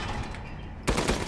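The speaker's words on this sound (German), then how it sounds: "Maschinengewehr." Machine gun fire from a turret in the video game Resident Evil Village erupts as loud rapid bursts over constant game noise in the last part.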